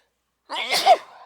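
One loud, close sneeze bursting out after silence, with a short breathy tail as it fades.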